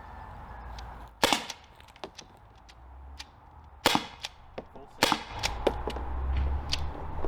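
Byrna HD less-lethal launcher firing, about five sharp cracks spaced unevenly over several seconds, loud and close, with faint room noise between the shots.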